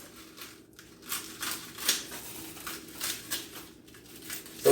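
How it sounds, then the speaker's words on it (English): Kitchen shears snip through tightly rolled collard green leaves in a quick series of crisp cuts, each a short dry crunch, close up with no talking. "I'll go in with my shears and just cut small sections"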